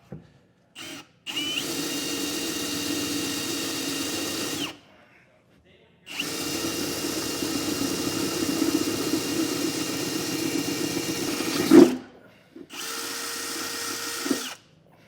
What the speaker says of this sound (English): we're going to come back up top with a 9/16 drill bit and drill them out the rest of the way